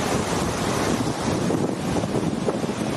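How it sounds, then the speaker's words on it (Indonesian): Seaside waves and strong wind at Tebing Gajah beach in Ruifang, a loud, continuous roar of surf mixed with gusting wind buffeting the microphone, with no voices. "Pinggir laut."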